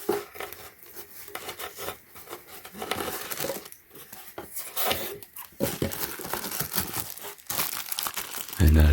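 Crinkly rustling and crunching as a mesh netting bag from a submersible pond waterfall pump is handled close up, steady and busy throughout, with a thump at the end.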